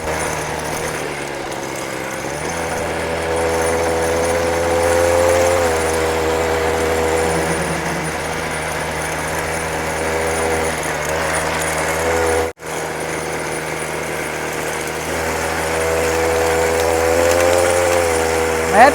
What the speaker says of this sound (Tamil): ரோட்டில் போய் நம்ம வண்டியை ஓட்டி எந்த அளவுக்கு வந்து ஸ்மூத்தாக போகுது